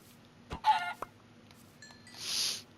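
In the video game Minecraft, a chicken gives a few short clucks amid quiet game sounds, with a soft rushing noise near the end.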